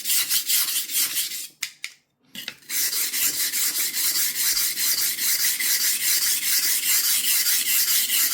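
A kitchen knife blade is sharpened on a whetstone with an angle guide: steady, rhythmic abrasive scraping strokes, loud and close, broken by one brief pause before the rasping resumes.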